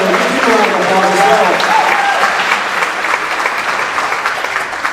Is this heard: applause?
yes